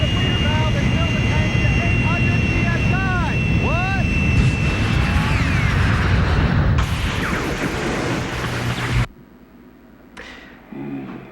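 A jet propulsion pack roars in a rental car commercial, a loud sustained jet-like rush with rising whooshing tones and voices speaking over it, cutting off abruptly near the end to a quieter tail.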